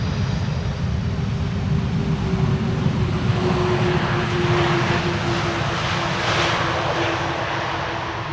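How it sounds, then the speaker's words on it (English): An airliner lands on Polderbaan runway 18R using idle reverse thrust, giving a loud, steady jet roar with a sustained whine that swells slightly and stays constant throughout, with no talk over it. "Idle, reverse landing."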